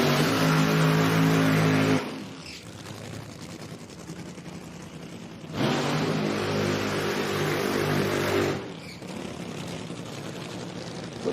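Drag racing cars at Bradenton Motorsports Park fire up and rev, loud roaring engine blasts alternating with quieter rumbling idle, two strong surges several seconds apart.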